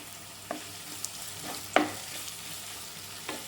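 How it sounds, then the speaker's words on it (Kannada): Green chilies and ginger frying in oil for upma, heard as a soft steady sizzle broken by a few sharp clicks of a spoon against the pan, with no talking. "ಈಗ ಇದನ್ನು ಚೆನ್ನಾಗಿ ಫ್ರೈ ಮಾಡುವ."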